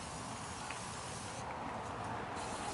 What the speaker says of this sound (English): Spray it all down in there.